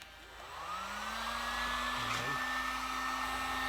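Hot air tool blowing steadily while heating a machined piece of metal for a control arm on a 1964 Ford Fairlane race car build: a loud, close, constant whine and rush that ramps up at the start and then holds.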